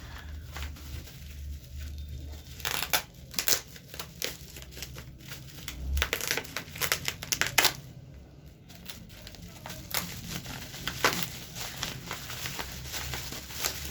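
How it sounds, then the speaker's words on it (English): Packaging of a wireless power bank crinkles and crackles steadily while being opened, with scattered sharper rustles and tearing bursts up close, no voices. "So let's do a quick unboxing and see what it is."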